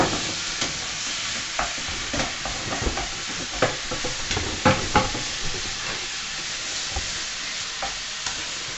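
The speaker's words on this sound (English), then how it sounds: "while Adam takes over the beef, see that right there?" Beef for chilli con carne fries in a pan, a steady close sizzle broken by scattered scraping stirs and clacks, with no talking over it.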